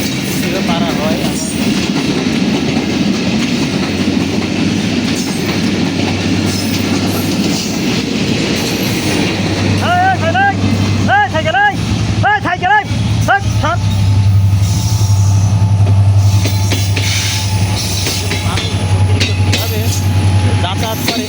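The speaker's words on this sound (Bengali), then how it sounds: "দেখুন এই যে ট্রেন আসছে" A train rolls through a railway level crossing gate in Bangladesh, a loud steady rumble of wheels and carriages, with horn-like tonal bursts midway and people talking over it.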